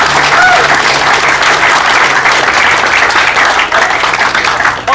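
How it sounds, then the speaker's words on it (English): Loud, dense crowd applause at a motorsport burnout event fills the whole stretch, steady and close with no pauses. "One more time, big round of applause."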